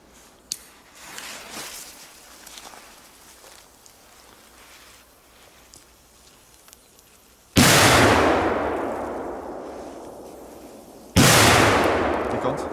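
Two loud, sharp bangs from Polish fireworks split the quiet several seconds apart, each trailing into a long crackling, hissing decay, with faint background noise before them.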